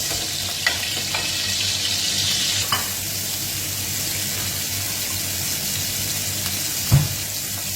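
Onion frying in a pan for couscous, a loud, steady close-up sizzle with a few utensil taps and a sharp knock near the end.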